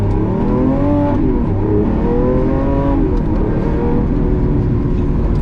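Lamborghini Aventador SVJ pulling away under moderate acceleration from inside the cabin, its engine note climbing in pitch and briefly dipping at each gear change, loud and continuous throughout.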